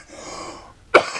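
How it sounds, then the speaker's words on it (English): A single short, harsh cough rings out close by after a moment of quiet room sound. "Sorry, see, there goes my coughs again."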